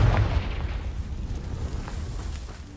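A Confringo fire spell in Hogwarts Legacy sets off a single deep blast, followed by a rumbling decay that fades over a few seconds.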